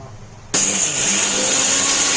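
A mixie jar grinder starts abruptly and runs loudly, pulverizing curry leaves into powder, a steady broadband motor whir that holds for about two seconds after a quiet lead-in.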